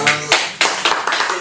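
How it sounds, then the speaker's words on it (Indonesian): Small audience claps in a brief burst of a few sharp, close handclaps, uneven in rhythm, with voices alongside. "Tepuk tangan, guys."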